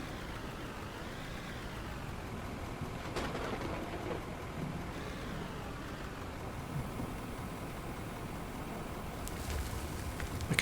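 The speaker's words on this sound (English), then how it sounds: "Yeah, lightning's sounding very angry." Rain and thunder from a thunderstorm in the mining game Out of Ore, a soft steady hiss of rainfall with low distant rumbles rolling underneath.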